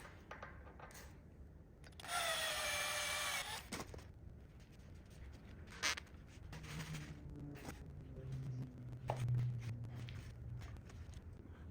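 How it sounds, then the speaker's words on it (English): A drill boring a small hole in an engine seal on a 2JZ engine being swapped into a BRZ, a faint high whine for about two seconds followed by quiet clicks and workshop handling noises. "To remove the seal, I'm gonna drill a small little hole in it and start a screw into it"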